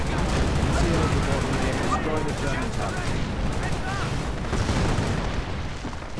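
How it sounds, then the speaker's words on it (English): Dense, continuous artillery fire, explosions and gunfire from a World War II strategy game, a loud, thick battle din with overlapping booms and rattling shots, with someone commentating over it. "Artillery flying once more."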